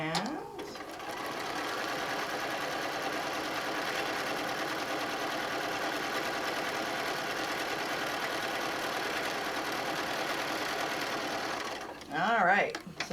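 A sewing machine runs a long, steady stitching pass through vinyl while making a small cell phone bag and name tag, a continuous close mechanical whir that ends as a voice starts speaking.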